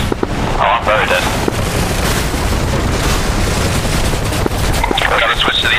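Helicopter gunfire in DCS World, a sustained roar of rapid shots and booms running the whole time, loud and close, with radio voices and talk breaking in at the start and end.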